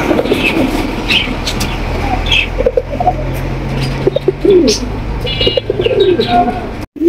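A male racer pigeon coos repeatedly in low, throaty bursts, close by, over a constant low hum and scattered chirps from other birds.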